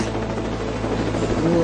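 A helicopter carries passengers over snowy mountains, its steady rotor and engine roar filling the whole short stretch at close range, loud and continuous, with no talk over it.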